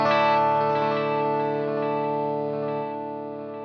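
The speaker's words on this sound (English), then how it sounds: "Here's a dual stereo delay," A held electric guitar chord rings with echoing dual stereo delay repeats across both sides and slight modulation, sustaining and slowly fading without any pause.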